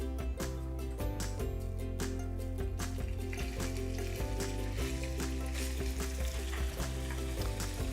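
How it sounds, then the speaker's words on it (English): Bacon browns in sesame oil in a pan over medium-high heat, giving a steady, even sizzle and crackle that runs unbroken from start to finish, fairly quiet and close, with no voices. "Then we're gonna start off with our bacon. Get that browning a little bit, turn the pan up to about a medium-high heat."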